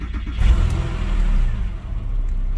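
A Porsche 996 Carrera 2 engine cranks and fires, then settles into a loud, low idle close by, with a slight bump in revs before evening out; no voices.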